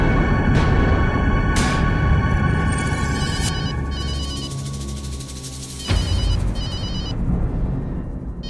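An office telephone rings repeatedly in bright electronic bursts, loud and close, with a dramatic musical score underneath and no talking.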